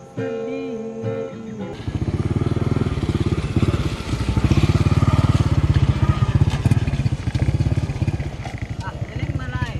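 Motorcycle engine in an outdoor setting near a waterfall, starting after a quiet moment and then running loud and steady with a throbbing, revving drone for most of the clip, with voices faintly audible beneath it.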